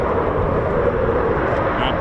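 Red Arrows aerobatic jet roaring past while flying inverted down a runway at RAF Waddington, a steady, loud broadband engine rush filling the whole short stretch with no gaps.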